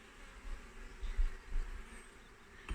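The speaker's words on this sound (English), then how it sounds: "So I'm going to see if I can find a queen bee." Honey bees buzzing at a hive being opened for inspection, a faint, steady drone low in the background with a few louder swells and no talking.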